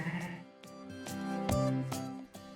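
Sheep bleating on a farm during lambing season, with a ewe nearby in labour. Several close, wavering bleats come in quick succession, one after another.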